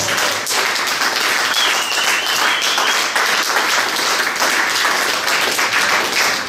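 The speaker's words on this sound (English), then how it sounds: "can you give a big round of applause to the legendary Mad Professor?" An audience gives loud, sustained applause for the dub producer Mad Professor, a thick and even wall of clapping from a crowd, close and continuous.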